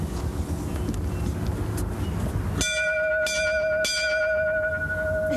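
A ship's bell is rung once on board a riverboat in Juneau, Alaska, giving a loud, clear strike that rings on with a long decay. A second, lighter strike follows over steady engine and wind rumble.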